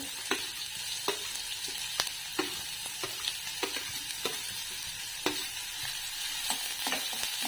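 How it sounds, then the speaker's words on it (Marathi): Chopped onion sautéing with garlic in a pan for a masur usal curry: a steady close sizzle with repeated sharp spatula scrapes and stirring clicks, no talk. "हा कांदा आपण परतून घेऊया"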